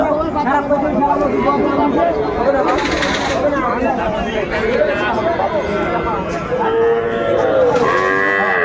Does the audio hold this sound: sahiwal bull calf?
yes